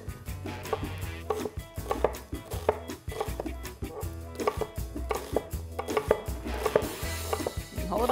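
A knife cuts an onion on a cutting board in a home kitchen, with steady rhythmic chops knocking against the board, about two per second. The chops are close and clear, and nobody talks.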